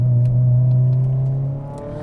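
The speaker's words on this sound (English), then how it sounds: "this makes the sort of noises you'd expect from a rally car. Lots and lots of pops and bangs, loads of turbo whooshes." A 520whp Mitsubishi Evo X engine drones at a loud, steady pitch up close, then eases off as the note fades, with a faint whoosh above the rumble and no clear pops.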